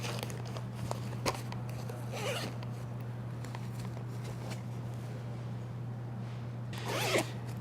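The zipper on a Peak Design travel pouch pocket is pulled in a few short, close rasping strokes, with quieter rustling and handling of the pouch between them over a low steady hum.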